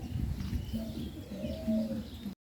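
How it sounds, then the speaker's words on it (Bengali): Soft, low pigeon coos repeat a few times close by, with a faint rumble of background noise. "এই যে কালো কবুতরটা বাচ্চা কবুতর দেখছো"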